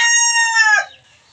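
A single close, loud cluck from a laying hen, a short harmonic squawk that quickly fades away.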